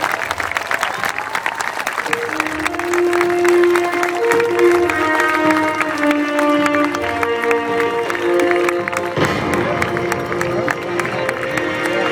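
Crowd applause for World War II veterans at the California Capital Airshow's 75th anniversary, sustained clapping from a large outdoor audience over about twelve seconds, mixed with music and a public-address voice.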